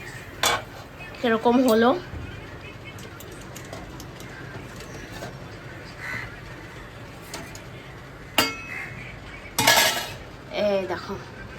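A cooking pot lid is lifted and set down with a few sharp metallic clinks of pots and utensils, spaced irregularly among quiet stretches, with brief speech in between.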